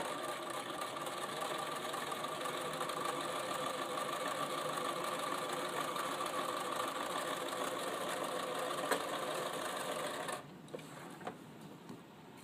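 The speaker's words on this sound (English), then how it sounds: "So I'm going to sew it back at the 1/4 inch mark." A sewing machine stitches a French seam in fabric at a quarter-inch seam allowance, running as a steady, even mechanical whir for about ten seconds before stopping, followed by a few small clicks.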